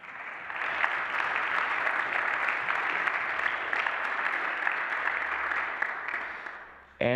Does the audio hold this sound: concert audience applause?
yes